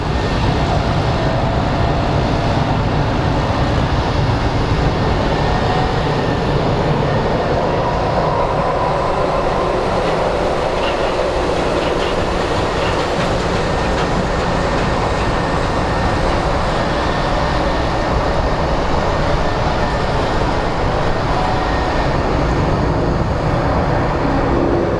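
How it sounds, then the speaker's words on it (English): Boeing 767 jet at Phoenix Sky Harbor International Airport rumbling as it departs, a continuous deep, rough roar at a steady level, heard from a distance with no talk over it. "767 rumbling."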